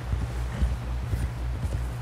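Horse hooves clip-clop at a steady walking pace in Red Dead Redemption 2, with a low rumble underneath and the rhythm continuing evenly throughout at moderate loudness.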